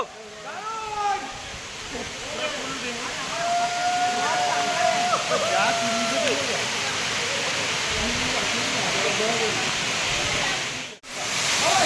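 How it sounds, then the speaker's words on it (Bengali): A waterfall dropping from about 200 feet, a loud steady broadband rush of falling water filling the scene, with voices and faint calls heard over it and a brief dropout near the end. "প্রায় 200 ফুট উপর থেকে ঝর্ণার পড়ছে আস্তে আস্তে"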